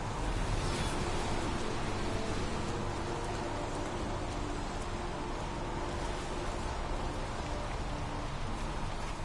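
Steady rain falls in the video game Heavy Rain, a dense, even hiss that stays constant and close throughout with no voices.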